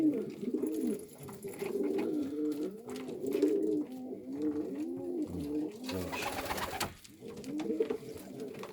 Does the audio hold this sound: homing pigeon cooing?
yes